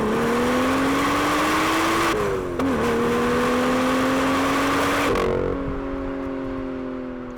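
A BMW M2 engine revving hard under acceleration, climbing steadily in pitch through the gears with brief dips at each shift, loud and close, with no talking.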